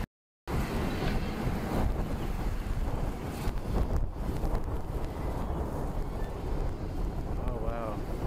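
A full-camo bass boat on open water, with steady wind rushing across the microphone and water wash around the hull, while voices talk over it.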